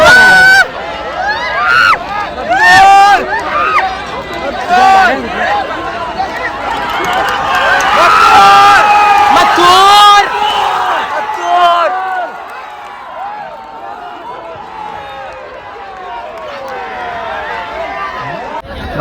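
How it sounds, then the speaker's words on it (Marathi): Packed crowd at a bullock cart race ground cheering and shouting loudly as the Mathur cart runs, dense roaring hubbub peaking midway then easing to a lower steady murmur of chatter. "बघा जल्लोष बघू शकता मित्रांनो."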